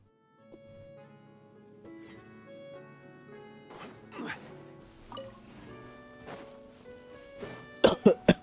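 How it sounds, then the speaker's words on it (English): A few video game character's coughs and throat-clearing sounds in Genshin Impact, mixed with soft ambient music, ending in three sharp, loud coughs close by. "Why am I coughing?"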